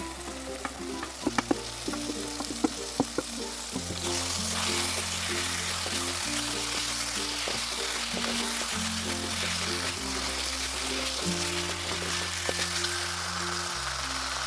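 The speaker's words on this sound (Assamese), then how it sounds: "এতিয়া মই মাংসখিনি দি দিছোঁ।" Broiler chicken pieces frying in a pan with melted tomatoes, onions and ground spices over a medium gas flame: a few sharp utensil clinks, then a steady sizzle with stirring under soft background music, without speech.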